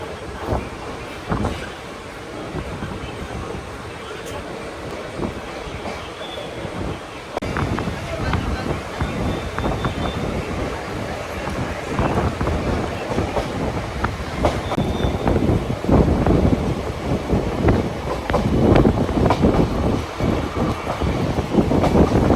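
The Gujarat Superfast Express 22954 rumbles at Maninagar station in Ahmedabad, a continuous loud train roar with rattling carriages and wind buffeting, heard from on board and growing rougher toward the end.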